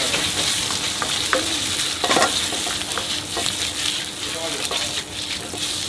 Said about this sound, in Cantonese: 將啲花肉煎香嗰啲